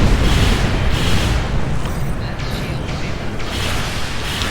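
A photon torpedo fires and detonates in the space combat game Star Trek Online, a sustained rumbling boom with bursts of crackling blast noise that hold steady for several seconds.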